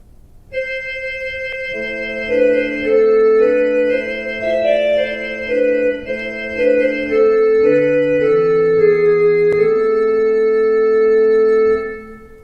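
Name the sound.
pipe organ flute stops on the Swell manual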